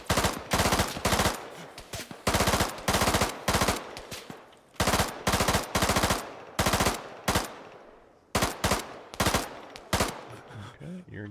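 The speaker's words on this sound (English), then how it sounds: "this is where I could pop up with the Enfield and kind of take my" Rapid volleys of Enfield rifle and automatic gunfire in the military shooter game Antistasi Ultimate on the Takistan map, sharp loud cracks in fast bursts separated by short pauses, with a voice faintly underneath.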